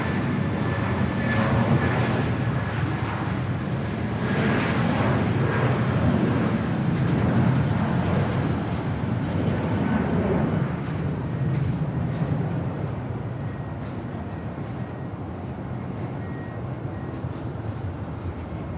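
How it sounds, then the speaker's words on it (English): SAS Scandinavian Airbus A350 taxiing along Bravo on the south side of LAX, bound for Copenhagen, gives a steady broadband jet roar with a faint whine, loud and continuous and fading slightly toward the end. "SAS Scandinavian A350 heading back to Copenhagen. Starting her taxi here on Bravo here on the south side"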